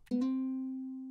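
A single sustained ukulele note from a sampled instrument bank, played with a bend-up articulation: a plucked attack that then holds steady and clear, ringing alone and fading only slightly.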